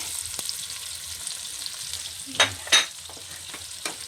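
Garlic sautés in melted butter with a quiet, continuous sizzle, punctuated by a couple of sharp utensil clinks and scrapes against the pan.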